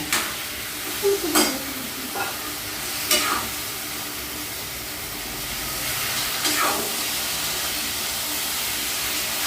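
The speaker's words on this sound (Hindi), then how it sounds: "अब टमाटर डालो" Tomatoes frying in a hot pan for sambar give a steady close sizzle, with a few sharp spoon-on-pan scrapes and clinks near the start, then continuous frying noise without speech.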